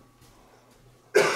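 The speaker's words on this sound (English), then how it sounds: "I haven't coughed at all in having this cold until now" A single sharp cough from a man with a cold, loud and close, bursting out right at the end after near silence.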